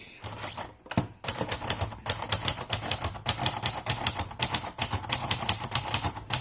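A Royal Caravan or Sahara manual typewriter is typed on quickly, giving a dense, fast run of sharp, close key strikes with a brief pause near the start.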